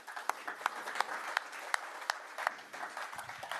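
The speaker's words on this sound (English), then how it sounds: "Let's give everyone a round of applause," Audience at a cartography conference gives a round of applause, a light, fairly distant patter of claps lasting a few seconds at low level.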